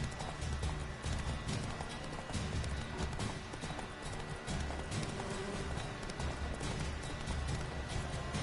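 Rapid rhythmic hoofbeats of a galloping horse in The Witcher 3, steady and continuous, with a brief whinny and a dense background wash.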